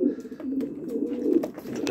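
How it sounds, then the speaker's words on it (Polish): Long-distance racing pigeons coo nearby in a loft: soft, low throaty coos repeat in a continuous, slightly pulsing rhythm, clear and without speech. "to są gołębie"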